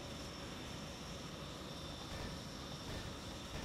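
Steady, broadband engine roar of a helicopter droning continuously at moderate level in a Roblox game, with no voices over it.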